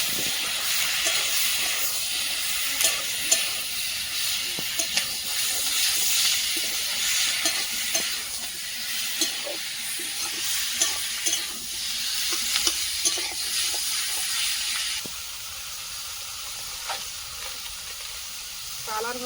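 Prawns frying in a pan on a home stove give a steady, close sizzling hiss, with scattered crackles and stirring clicks, and the sound eases somewhat near the end.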